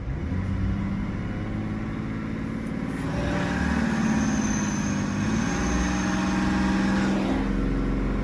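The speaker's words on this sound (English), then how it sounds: "So let's start it up again. Let's fast idle it." A BMW E92 335d diesel engine held at fast idle with a clogged DPF, a steady, loud, continuous drone with a faint hum on top, no voices.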